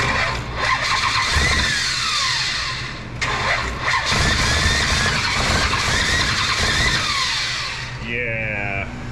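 A 1965 Shelby Cobra with a 454 big-block engine cranks over without fuel, running only on leftover brake cleaner. The starter churns loudly and steadily for several seconds, with a brief dip partway through and a high whine near the end.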